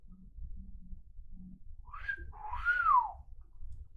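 Someone tries to whistle, producing a brief airy rising note followed by a longer wavering, breathy tone that bends downward, fairly quiet over low room noise.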